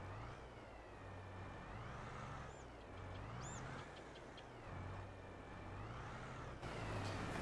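A 9RX tractor pulling a grain cart drives through a soybean harvest in Farming Simulator 22, its engine a steady low drone with rising and falling whining tones from the machinery, fairly loud throughout.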